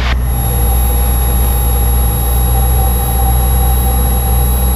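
A light training aircraft engine with the throttle pulled back, a steady, unbroken drone with a constant low hum and tonal whine, close and continuous with no voices.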